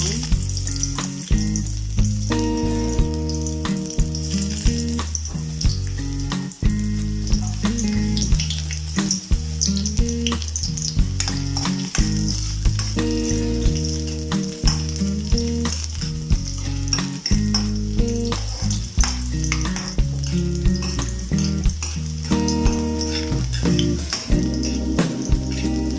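Garlic frying in a pan for chicken adobo, a steady close sizzle with crackling pops and occasional stirring scrapes throughout.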